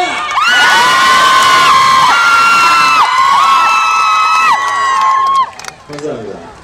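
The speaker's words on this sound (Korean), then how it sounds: "박수 치실 거면 크게 치세요." A large concert crowd at an outdoor 2011 Seoul dream concert cheers loudly with high, sustained screams and whoops. The noise holds strong for several seconds before tapering off near the end.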